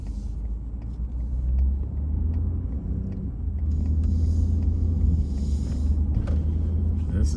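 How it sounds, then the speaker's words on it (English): Steady road traffic in Quartzsite, Arizona on a busy January day, cars rumbling past nearby in a continuous low drone with a few louder passes. "Bit of traffic here."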